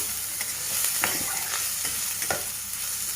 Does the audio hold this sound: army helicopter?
no